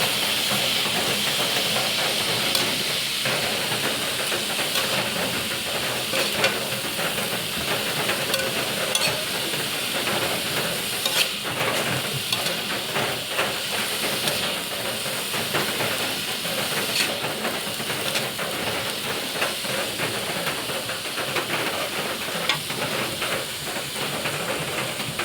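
Steady simmering hiss of ginataang puso ng saging, banana heart in coconut milk, being stirred in a pot, a constant bubbling sizzle with faint scraping stirs throughout, no voices.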